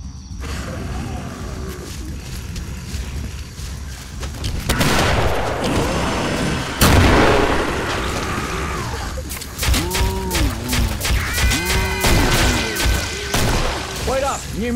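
A big gun fires in Killing Floor on the Bedlam map, loud booming shots and crashes amid chaotic combat noise, with someone talking over the blasts.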